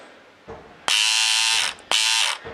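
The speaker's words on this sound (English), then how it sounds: "This is something unique. Mastercraft cordless cutters." Two loud bursts of a buzzing, whining motor from Mastercraft cordless electric cutters, each about half a second long, separated by a brief pause.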